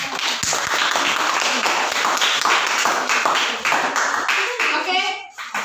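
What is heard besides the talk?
applause for a group after their class presentation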